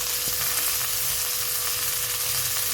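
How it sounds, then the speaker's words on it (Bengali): Pieces of bata fish, rubbed with salt and turmeric, fry in hot oil with a dense, even sizzle heard up close, with a faint hum underneath and no speech. "বাটা মাছ কেটে রেখে লবণ হলুদ মেখে রেখেছিলাম সেটা ভাজা করে নিচ্ছি"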